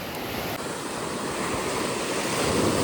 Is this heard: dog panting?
no